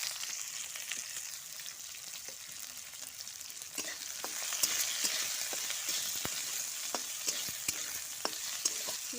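Chopped onion fries in hot oil for an egg curry, a continuous crackling sizzle with scattered pops and light stirring, steady and fairly close throughout.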